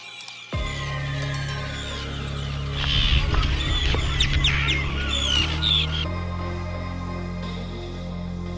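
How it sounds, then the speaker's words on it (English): Colony of terns on the Isle of May, Scotland, raising a dense chorus of harsh overlapping calls close by, swelling in the middle and then thinning out over a low steady background hum. "The last obstacle is now to get back through this tern colony without getting absolutely mauled by the birds."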